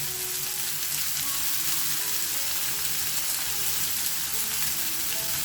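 Long-sliced onions and curry leaves fry in hot oil with asafoetida in a pan, a close, steady crackling sizzle with bursts of spattering and no speech.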